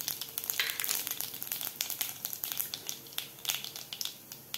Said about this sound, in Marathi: यामध्ये घालायचे आपल्याला अर्धा चमचा जिरे,